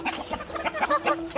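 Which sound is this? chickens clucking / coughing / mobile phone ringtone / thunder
chickens clucking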